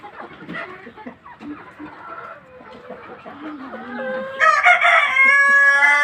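Tiger-breed hens cluck and call in a coop during egg collection, with a string of uneven clucks that swells into louder, busier squawking near the end; no one speaks.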